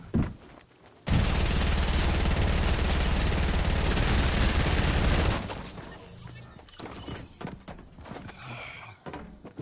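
Sustained burst of rapid shotgun fire in a video game, loud and continuous for about four seconds, then fading into scattered thumps and clatter.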